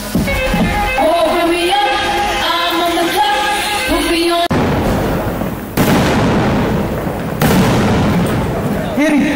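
At a film music launch event, firecrackers go off in a few sharp, loud bursts over a dense, noisy crowd and amplified music that drops away midway.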